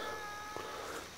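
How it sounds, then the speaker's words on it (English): A vocal house cat on a farm gives a single drawn-out meow outdoors by a garden, moderately close against steady background noise. "That's our cat. She's very vocal."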